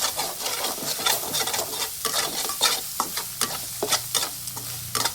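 Egg rice filling with lemon is stirred in a sizzling pan, with a continuous frying crackle broken by repeated scraping strokes of the spoon close by.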